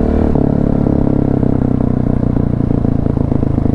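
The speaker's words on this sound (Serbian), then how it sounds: "Evo idu neki motori iza" Motorcycles ride close behind a KTM 690 Enduro on Belgrade streets, a loud steady engine drone with clattering, wind-buffeted roar filling the whole stretch and no talk.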